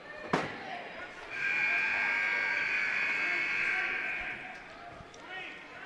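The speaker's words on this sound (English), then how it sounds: "Did they change up their buzzer in here?" A long, steady scoreboard buzzer sounds for about three seconds in a school gym during a girls' basketball game, Lakin Lady Broncs vs Stanton County, with crowd noise and voices around it.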